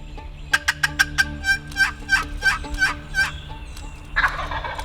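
A wild turkey gobbler gobbles in a quick run of rattling calls, then falls silent before a short harsher burst near the end, all loud and close with no talk.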